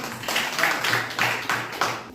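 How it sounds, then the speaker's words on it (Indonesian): A few people clap in a sparse, uneven rhythm, a small round of applause at close range with no talking. "tepuk tangan buat kelompok 2"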